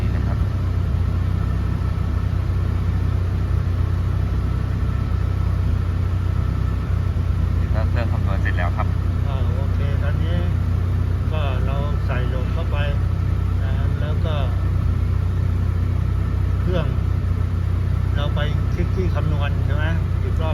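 A car engine fitted with a EuropeGAS EG32 LPG system idles with the headlights switched on as an electrical load, giving a steady, close, low rumble while someone talks over it.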